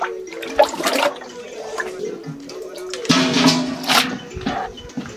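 Liquid for pito, a Ghanaian local beer, being stirred and sloshed, with splashing bursts and a steady watery churn, close and fairly loud.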